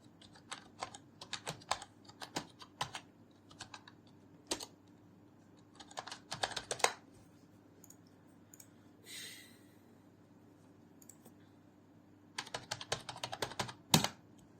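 Someone types an email address and password on a computer keyboard to log in to Shopify, with bursts of quick, close key clicks separated by pauses and a faint steady hum underneath.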